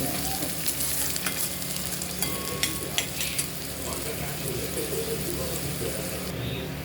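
Onion frying in half a ladle of oil with a few curry leaves in a pan, a steady close sizzle with scattered stirring scrapes and clicks throughout.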